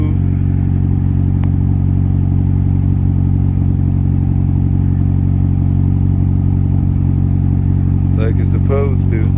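A turbo Honda car engine idles after a cold start with a loud, steady low drone. Someone talks briefly near the end.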